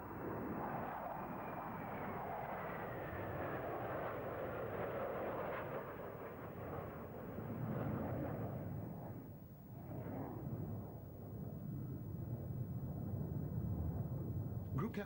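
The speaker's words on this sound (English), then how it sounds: "the Sukhoi Su-27s of the Soviet Air Force display team" Sukhoi Su-27 jets of the Soviet Air Force's Russian Knights display team fly at the Finningley 1991 air show, their engines a loud, continuous, broadband roar that swells and holds for the full fifteen seconds.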